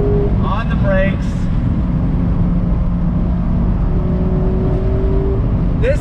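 A 2019 Mazda MX-5 Miata Club sports car drives steadily, its engine a continuous close drone with a few brief tonal rises, while a person talks over it.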